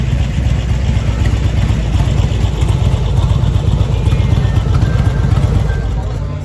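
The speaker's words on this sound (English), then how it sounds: "Let me go shut off this motorcycle" A motorcycle engine idles steadily at a motorcycle rally in Galveston, Texas, with a loud, constant low rumble and even throb that never changes pace.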